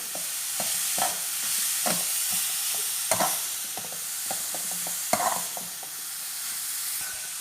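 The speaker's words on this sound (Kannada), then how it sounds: "ಇತ್ತೆ ಅವೇ ತುಪ್ಪಗೂ ಈ ಕ್ಯಾರೆಟನ್ನು ಪಾಡ್ಗ. ಇತ್ತೆ ಸರಿ ಫ್ರೈ ಮಾಡ್ತದೆ." Grated carrots fry in hot ghee in a pan for carrot halwa, a constant soft sizzle broken by several sharp scraping strokes of a spoon as they are stirred, close up and without talk.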